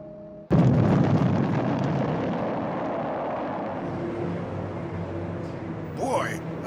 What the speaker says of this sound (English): Boy, that explosion was really exciting.